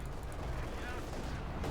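Machine gun fire hoses across the battlefield in Company of Heroes 2, a dense continuous rattle of rapid shots layered with other combat noise over a WWII German versus Soviet skirmish, steady and loud throughout.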